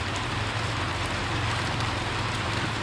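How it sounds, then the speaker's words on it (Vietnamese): Heavy rain falling steadily in the Mekong Delta region of Vietnam, a dense continuous hiss that stays loud and even throughout with no voices. "Mưa gì cực dữ không"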